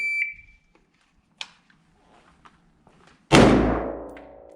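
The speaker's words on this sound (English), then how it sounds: "On the beep, you're gonna go." A short high electronic beep from a shot timer, a few soft handling clicks and thumps, then a sudden loud gunshot that rings out and decays.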